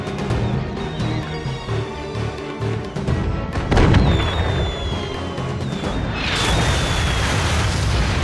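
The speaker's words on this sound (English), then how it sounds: "We've been splattered by their artillery!" Artillery shells exploding in the Skylanders Spyro's Adventure video game, Dark Water Cove level: deep booming blasts that run almost continuously, swelling to a heavier burst near the middle and a bright crashing surge toward the end, layered over game music.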